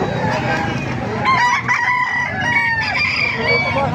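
A rooster crows loudly nearby at a poultry gathering in Calumpit, Bulacan, its call rising and falling over a busy background of other fowl clucking and chatter.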